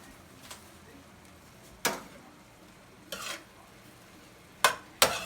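A spoon stirs pinapaitan beef soup in a covered pot, producing four or five sharp scraping clatters spaced irregularly over a quiet background with faint simmering, with no talking.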